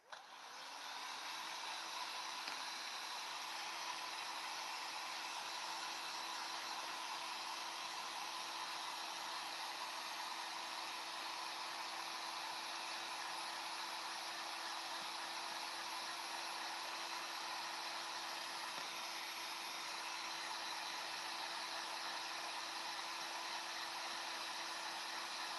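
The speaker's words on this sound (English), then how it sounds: "Here, you can hear the heat gun." A heat gun runs steadily and loudly for the whole stretch, a constant broadband blowing roar with a faint steady hum, used while repainting a small figure at a desk.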